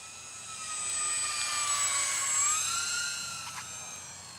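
An E-flite Aero Commander RC plane makes a slow, low pass at low throttle, its motor a steady nearby whine that swells as it closes in, bends in pitch as it goes past, then fades.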